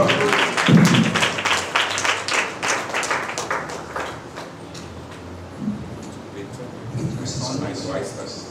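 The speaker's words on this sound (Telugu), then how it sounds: "చప్పట్లు కొట్టి యేసయ్య నామాన్ని గణపరచుదామా" Congregation at an outdoor revival meeting clapping rhythmically in praise, steady beats that fade as a voice speaks over them, with scattered claps returning near the end.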